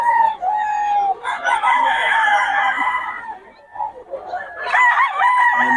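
Sweater bloodline gamecock crowing close by, two long drawn-out crows with clucking between them, loud and clear with no talk over it.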